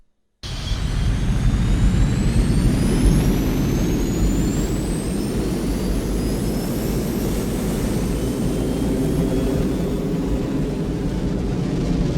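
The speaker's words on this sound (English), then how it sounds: "Clear for takeoff, Charlie?" Jet aircraft engine roars up at takeoff in a radio drama, a loud, steady, sustained rumble that starts abruptly after a brief silence, with a faint rising whine sweeping upward through it.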